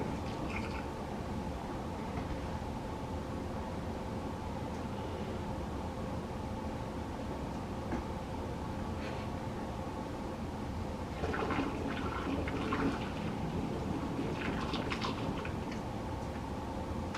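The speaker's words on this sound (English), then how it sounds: "I'm going to just go ahead and start taking some more warm water here and pouring it in" Warm water is poured into a mead vessel holding honey, a steady liquid rush running throughout with a denser, splashier stretch near the end, fairly close and with no talking.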